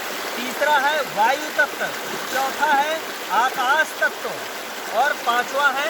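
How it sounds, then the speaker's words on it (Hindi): A babbling stream runs steadily in the background under continuous nearby speech in Hindi, its flowing water murmur staying constant throughout. "हो सकता है ये पानी के कलकल की आवाज़ में थोड़ा सा वॉल्यूम"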